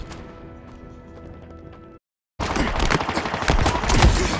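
A Halo Infinite shotgun fires in a quick string of loud, sharp blasts after a quieter stretch of game sound and a moment of silence, close and punchy with no talking over it.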